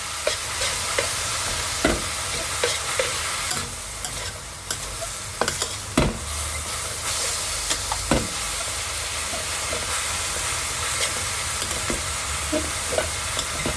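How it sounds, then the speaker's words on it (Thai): Noodles stir-fried in sesame oil with cabbage, carrot and mushrooms in a pan, a steady close sizzle broken by repeated scraping and clacking of the spatula, no voices. "จากนั้นก็ผัดเลยจ้า แค่นี้ก็สุกแล้วง่าย ๆ นะคะ"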